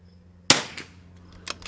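Sharp, close rifle shots from a RimX Lapua rimfire rifle on a rest, one loud crack followed by several quicker, fainter reports.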